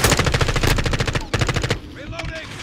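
Rapid automatic gunfire rattles in a Call of Duty: Modern Warfare II multiplayer match, loud and close in several fast bursts that cut off into quieter game sounds.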